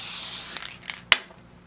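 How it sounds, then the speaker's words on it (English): A can of spray adhesive hisses out a short spray burst onto a frame mat, followed by a couple of soft rustles and a sharp brief spritz near the end. "Spray adhesive on your mat surface,"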